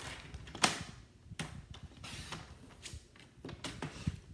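Cardstock being scored on a scoring board makes a series of short scraping and clicking strokes at an uneven pace, faint and close, with no talking.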